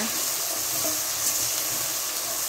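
Turmeric being stirred into peanuts and potato in a hot pan gives a steady, close sizzle with soft scraping and watery hiss, continuous throughout with no talking.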